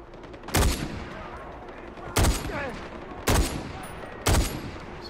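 Gunshots in the video game Far Cry 4 crack out as four loud, sharp bursts spaced roughly a second apart, each trailing off into a brief echo over low background ambience.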